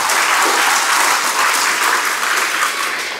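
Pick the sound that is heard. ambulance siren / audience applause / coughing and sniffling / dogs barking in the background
audience applause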